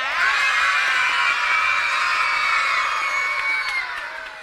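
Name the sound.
children shouting and cheering in studio audience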